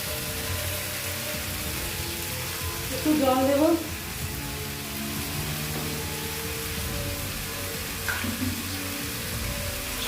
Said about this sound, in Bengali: সামান্য পরিমাণ জল দেওয়া হচ্ছে কড়াইয়ে